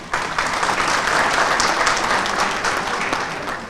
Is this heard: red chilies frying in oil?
no